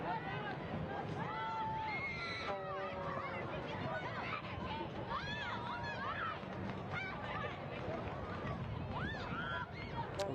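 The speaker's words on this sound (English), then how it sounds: "And the crowd making themselves heard here." A stadium crowd at a women's soccer match between Spokane Zephyr FC and Dallas Trinity FC keeps up a steady roar with horn-like honks and whistles, while a voice comments over it.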